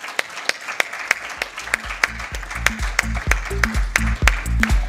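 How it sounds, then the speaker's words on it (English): Audience applause welcoming an author onto the stage at a book launch: dense, steady clapping with sharp individual claps standing out, carried under a low rhythmic music beat that builds through the clip. "the author himself, Mr. L.C. Singh, to a round of applause, please"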